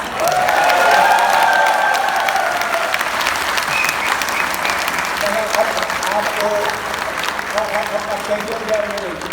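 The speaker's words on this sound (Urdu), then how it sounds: "یہ آپ نے تالیاں تو بجائی اور آپ کو اس کا حق حاصل ہے" An audience claps loudly at a literature festival talk. The applause peaks early and stays sustained, then thins as a voice begins speaking over the fading clapping.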